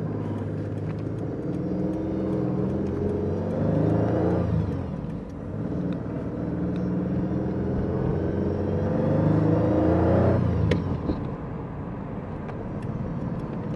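A 1971 Citroën SM engine revs and climbs in pitch as it accelerates in first gear, eases off with a gear change, then builds again with a throaty rumble.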